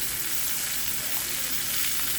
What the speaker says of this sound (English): you're going to sear it on all 4 sides